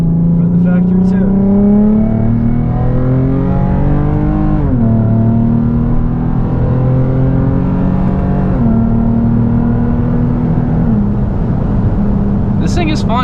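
Stock exhaust of a Lexus GS350 F Sport, heard from inside the car, burbling and revving through repeated rises and falls in pitch, loud and close, with a few short interruptions near the end.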